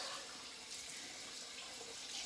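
Tap water runs steadily while alum is rinsed off a freshly shaved head, a continuous close hiss and splash with no talking.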